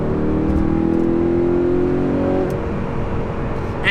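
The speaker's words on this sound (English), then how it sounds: "the 420 horsepower V8, and it just sings. Look, the engine just..." Audi R8 with a 420-horsepower V8 and a custom Valvetronic exhaust revs hard, a loud rising engine howl that climbs for about two seconds, then drops back to a lower, rougher burble.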